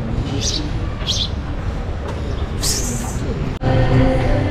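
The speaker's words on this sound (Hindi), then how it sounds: "इस चिड़िया क्यों डिस्टर्ब कर रही है मुझे?" Small birds chirp nearby outdoors in the evening, giving two short high bursts followed by a brighter call, set against a loud, steady rumble of background noise.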